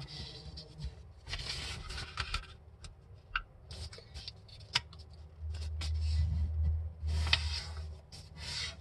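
Paper being creased and folded by hand for a contest paper airplane, with soft rustles, crinkles and sharp little taps of fingers pressing the folds, close and quiet, no talking.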